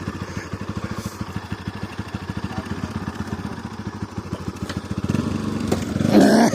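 A motorbike rides off-road on a rough dirt track, its engine chugging in fast, regular pulses close by, then revving louder and rising in pitch near the end.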